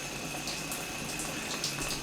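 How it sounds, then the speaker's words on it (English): An ice machine running on straight well water, pumping it up and over a tray, giving a steady close trickling wash of water with a faint mechanical hum underneath. "water comes in here and pumps up here and goes over a tray"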